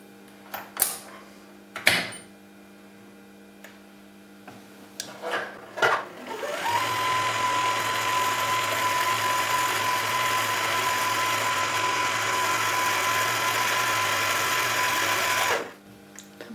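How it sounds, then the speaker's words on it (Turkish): A Janome DC 4030 sewing machine winds a bobbin with a steady, loud high-pitched motor whir lasting about nine seconds, preceded by a few scattered clicks and knocks as it is set up. "Masura sarmakla başlayalım."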